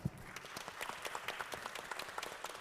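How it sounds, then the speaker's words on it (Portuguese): Applause from an audience at a women's health, wellness and beauty event in a shopping mall, a full round of many hands clapping steadily, fairly soft and slightly distant, with no talking over it. "Uma salva de palmas aqui."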